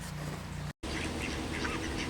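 Ducks quack along a river during a walk, one chasing a hen, with a few short nasal calls heard at moderate distance over steady outdoor background noise and a brief dropout in the middle.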